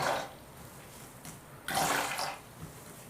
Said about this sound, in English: give this brush a little bit of a rinse